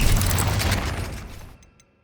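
A Bombarda spell explosion in Hogwarts Legacy roars close and loud, a broad booming blast that fades out over about a second and a half.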